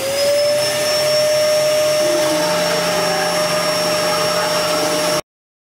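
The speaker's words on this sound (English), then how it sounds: "I'm going to cut these out on the bandsaw." A bandsaw cuts out wooden pieces for a DIY post box with a steady, loud mechanical whir and thin high whine, the tone shifting slightly as the blade bites, then stops suddenly.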